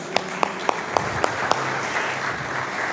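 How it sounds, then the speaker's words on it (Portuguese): A church congregation applauds in a steady patter, with a few sharp, evenly spaced claps standing out at the start before settling into softer, continuous clapping. "Vamos aplaudir o meu Isaac aí"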